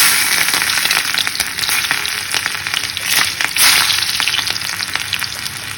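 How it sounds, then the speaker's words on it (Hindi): A tadka of onion in hot oil sizzles loudly and continuously for a dal chawal dish, a dense crackling hiss with scattered sharp pops close by. "तड़का भी लगा लेते हैं साथ।"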